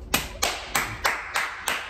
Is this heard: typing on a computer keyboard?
no